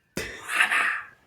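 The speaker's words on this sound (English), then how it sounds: "there's this person who sneezes ungodly loudly somewhere in this apartment block" A single loud, explosive sneeze from a neighbour somewhere in an apartment block, sharp onset after silence then a breathy tail lasting about a second, heard alone.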